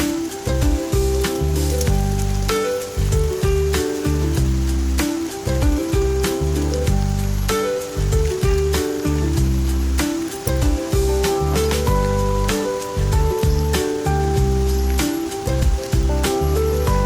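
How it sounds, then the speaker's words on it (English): Steady, loud rain pours down at a riverside campsite, a dense continuous hiss with rushing water underneath and no voices. "Suddenly, started to rain before we managed to set up our tent."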